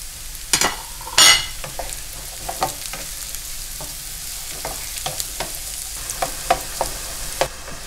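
Chopped boletus mushrooms frying with softened onion in a pan, a steady low sizzle broken by scattered clicks and stirring scrapes, with one louder clatter early on, close and moderately loud.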